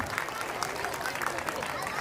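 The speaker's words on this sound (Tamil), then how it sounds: "நீங்கள் கைத்தட்டி அவங்கள உற்சாகப்படுத்துறதுல தான் அந்த பொண்ணோட நடனம் இன்னும் சிறப்பாக இருக்கும்" Audience at a Maha Shivaratri dance performance clapping for a dancer, a brief soft patter of applause in a crowd setting, fairly faint and somewhat distant.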